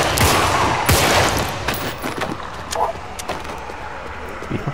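Gunfire from the zombie-survival video game Contagion: repeated sharp shots and bursts over a steady bed of game noise, with players talking over the action.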